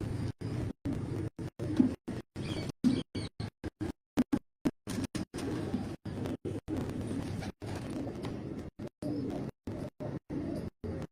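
Fancy-breed pigeons from a breeder's loft in Tando Allahyar, Sindh, give repeated low throaty coos, close and fairly soft, broken by frequent abrupt cuts to silence.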